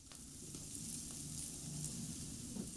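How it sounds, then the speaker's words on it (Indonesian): Minced meat sizzles steadily in a hot pan as it is stir-fried after aromatics, a continuous close frying hiss with faint stirring. "Kalau sudah harum, Masukkan 125 gram daging cincang."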